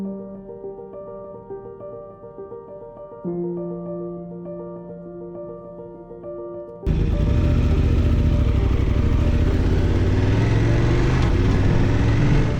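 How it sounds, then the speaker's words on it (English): A 2024 Honda Transalp XL750 on a test ride: after a stretch of tonal music, a loud, steady rush of engine and wind noise takes over abruptly and continues to the end. "I think it's time to take the bike out for a test ride and see how these things work"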